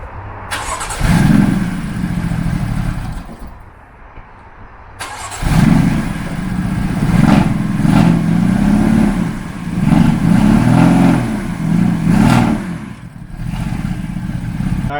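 A BMW M3 engine cranks and starts, cuts out, then starts again and runs unevenly with stumbling, irregular revs from a misfire, loud and close.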